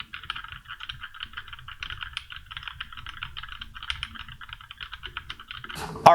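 Steady rapid typing on a Z88 budget mechanical keyboard, dense clacking keystrokes close to the mic that end with a louder clatter.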